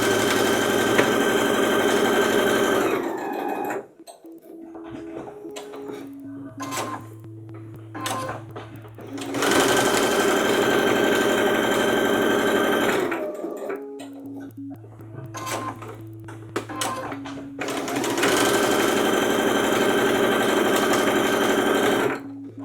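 A sewing machine stitches fabric for wipes in three long steady bursts of close, rapid mechanical chatter, separated by quiet pauses filled with small handling clicks and a low motor hum.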